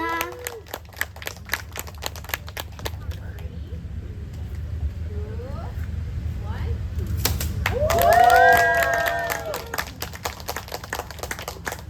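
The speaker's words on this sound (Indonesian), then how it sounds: "Boleh tepuk tangannya." Scattered clapping from a small crowd at an art exhibition opening, uneven and fairly close, fading briefly as voices murmur, then picking up again with cheering.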